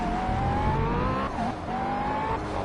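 A race car lapping in the racing game Project CARS, its engine droning loudly and continuously with rising pitch through the gears, a brief dip at a shift, and tyre noise underneath.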